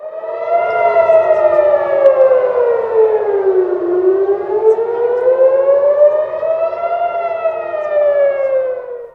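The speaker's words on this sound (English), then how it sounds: "Sirens screamed as every phone in Israel sounded the Category 1 alarm for a missile attack." A loud wailing civil-defense air-raid siren warning of an Iranian ballistic missile attack on Tel Aviv, its pitch rising and falling in a slow sweep, steady and continuous with no talk.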